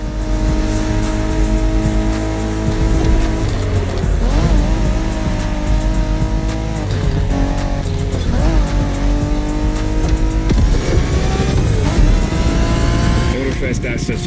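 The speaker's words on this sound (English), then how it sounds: "We're going for some proper Japanese street racing." Street racing cars in The Crew Motorfest video game, with loud revving engines rising and falling through gear shifts, tire squeal and skidding, while voices talk over the roar.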